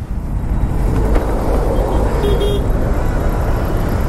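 Early-morning road traffic heard from a motorbike on a weekend ride, a loud, constant engine and road roar with a brief horn toot partway through.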